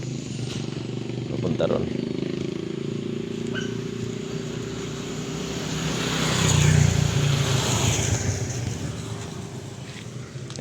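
Traffic passing on a highway near a house, a continuous engine rumble with one vehicle swelling louder as it goes by close, under someone talking.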